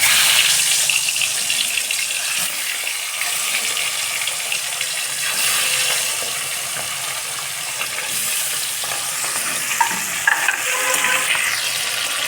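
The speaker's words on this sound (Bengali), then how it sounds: "মাছগুলো এখন ভেজে নেওয়া হচ্ছে।" Pomfret fish pieces fry in a pan of hot oil with a loud, dense, continuous sizzle and scattered spitting pops, heard close and steady with no voices over it.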